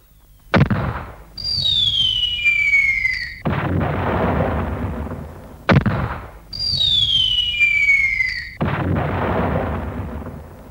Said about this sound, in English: First, an opening barrage of anti-mole mortar fire.